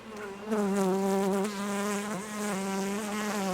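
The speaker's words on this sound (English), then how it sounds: "See those bees?" Honey bees buzz loudly and continuously up close in Jacksonville, Florida, a dense droning hum with slight wavering pitch throughout.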